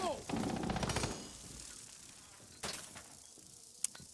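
Automatic gunfire from a Maestro gadget in Rainbow Six Siege, a rapid rattling burst up front followed by a few sharper isolated shots, with speech faintly mixed in.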